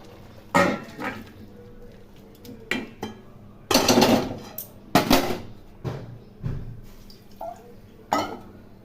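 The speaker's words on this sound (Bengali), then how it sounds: "এখন আমি ওলের ডালনা নামিয়ে অন্য পাত্রে ঢেলে নেব" Cooked elephant foot yam curry being tipped from a cooking pot into another vessel, with several loud clanks and scrapes of metal utensils and pots coming in irregular bursts close by, with no talk.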